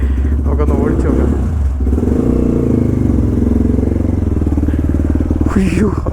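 A KTM RC 390 fitted with a Norifumi Noctus T5 bore-up exhaust runs close by with a loud, continuous, throbbing engine note, with a voice faintly audible near the end.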